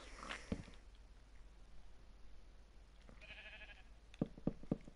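A sheep in the Minecraft video game bleats in a short, faint cry near the start, followed by a thin tone and a few soft knocking steps.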